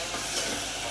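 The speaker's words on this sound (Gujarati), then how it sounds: "આ સરસ મજાના બટાકા વઘારી રહ્યા છે." Potatoes being tempered in hot oil: a brief burst of continuous hissing sizzle, steady and close, with no speech.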